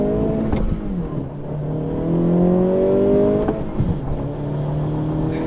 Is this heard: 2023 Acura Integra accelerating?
yes